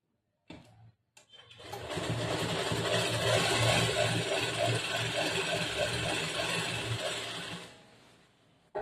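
Electric sewing machine running steadily for several seconds, double-stitching a second line over a blouse seam during a tailoring lesson, a close, even mechanical whirr with rapid rhythmic needle ticks that starts and stops cleanly.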